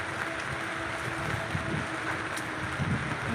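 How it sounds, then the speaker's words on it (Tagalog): Steady rain falls with gusts of wind outdoors, a continuous broadband hiss with soft scattered patter, moderate and even throughout, easing rain after a night of strong winds. "patuloy pa rin umuulan pero hindi na ganoon kalakas"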